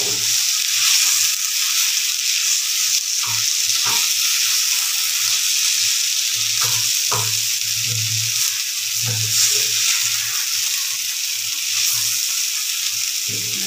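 Sliced potatoes for aloo bhaji fry in a black kadai, giving a steady close sizzle with occasional stirring scrapes and clinks.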